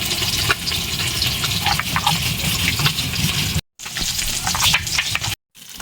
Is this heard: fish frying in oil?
yes